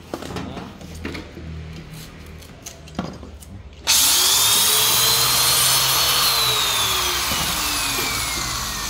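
A Makita rotary hammer drill starts abruptly after a stretch of quieter background handling, then holds a loud, steady whine that slowly sags in pitch as it keeps running.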